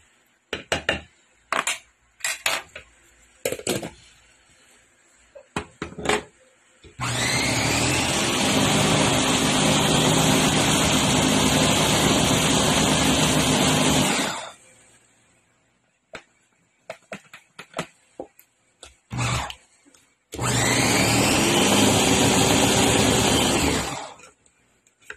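An electric blender grinding ingredients for balitsaw, two loud sustained whirring runs of several seconds each, separated by clattering and tapping of the jar and utensils nearby.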